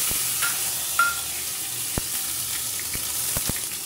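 Ridge gourd peel paste with garlic and salt tempered with black cumin in hot oil, a low steady sizzle broken by several sharp clicks and knocks of a spoon stirring against the pan.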